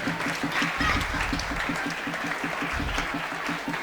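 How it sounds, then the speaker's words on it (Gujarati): Applause for student quiz teams at a school quiz competition, a steady burst of clapping from a room full of people lasting a few seconds, fairly close and even. "દરેક ટીમ માટે એકવાર જોરદાર તાળીઓ થઈ જાય"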